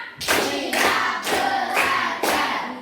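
A classroom group claps hands in a counting rhythm, five distinct bursts of clapping spaced evenly, each a loud cluster of hand slaps, with almost no talking.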